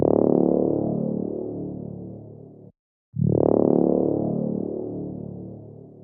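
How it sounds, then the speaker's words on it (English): Two long, deep brass hits from a sample called Winter Brass ring out one after another, each swelling in loud and slowly fading, with a brief gap between them. "Just like a super deep sounding brass, kind of like a stretched out hit"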